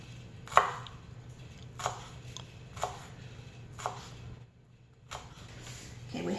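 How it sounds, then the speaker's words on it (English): Knife chopping half of a small onion into tiny pieces on a cutting board, about six separate crisp strikes spaced roughly a second apart over a low steady hum, close and moderately loud with no talking. "We're going to use about half of this small onion, and we're going to cut it small just the same way."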